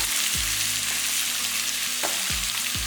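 Two large sliced onions sizzling in hot oil in a pan for an egg paneer masala gravy, a loud, steady close frying hiss with occasional stirring scrapes and no talking.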